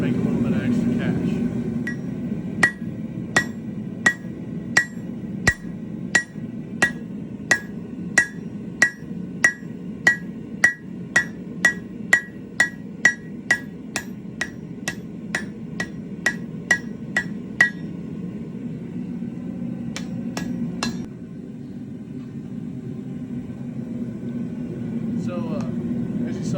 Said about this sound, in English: we took that piece of metal, stuck it on the hot cut hardy here, and we trimmed this end piece off